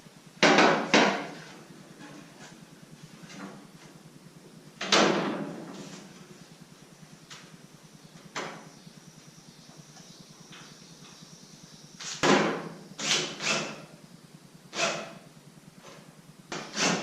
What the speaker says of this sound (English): So now I'm gonna throw this cover back on and flip it back over.